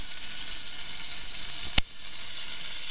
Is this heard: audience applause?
no